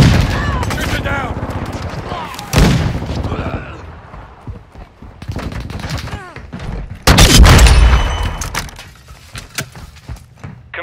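Gunfire from Call of Duty: Modern Warfare II in a Hardpoint match on the Embassy map: bursts of automatic fire and sharp loud blasts arrive in clusters, mixed with shouted game voice lines and callouts.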